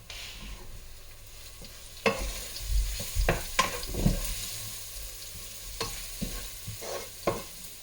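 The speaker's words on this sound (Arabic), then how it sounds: "هلا اسمعوا الطشة شلون" Mixed nuts sizzling in hot oil in a frying pan while being stirred, with a steady crackle and several louder scraping stirs, close and alone with no talk.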